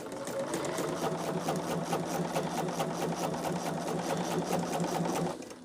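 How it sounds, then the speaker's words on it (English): A sewing machine stitches quilt blocks for a heart block quilt with a steady, continuous mechanical whir and regular needle rhythm, close and alone, stopping abruptly at the end. "we're just in the sewing room sewing today."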